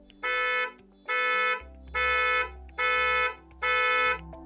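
Horn of a Hyundai IONIQ 5 triggered remotely, sounding five evenly spaced loud blasts, each about half a second long and held steady, with a low background rumble under the later blasts.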